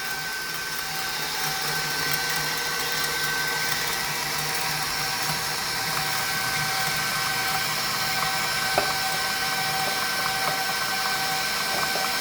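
An electric mixer at speed 3 whips 300 grams of melted chocolate into eggs for chocolate mousse, giving a steady, even motor whir at moderate volume for the whole stretch.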